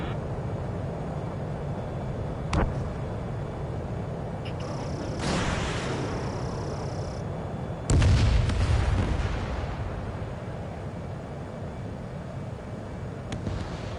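Missile launches and explosions in Ace Combat 7, a few sharp booms and a heavy blast over a constant jet-engine roar, with a rushing whoosh midway.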